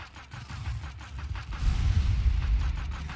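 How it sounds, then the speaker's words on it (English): Explosions in the Factorio video game rumble as a continuous deep, booming barrage, building louder through the middle and holding steady, with no talking over it. "Oh yeah, now I have explosions."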